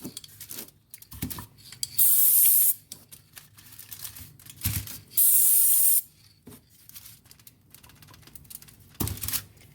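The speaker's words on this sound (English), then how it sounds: "I'm just going to do some spray painting here." Two bursts of hissing spray, each lasting about a second, separated by quiet clicks and handling noises.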